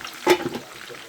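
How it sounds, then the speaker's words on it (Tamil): Tomatoes sauté in hot oil in a pan for mutton biryani, giving a short soft sizzle with a stir that rises and fades in about a second. "இப்போ தக்காளி பழம் நல்லா வதங்கட்டும் ஃப்ரெண்ட்ஸ்"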